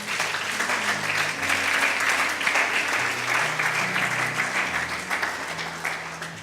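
A church congregation applauds during a French-language sermon, sustained dense clapping filling the room at steady volume, with faint voices and music underneath.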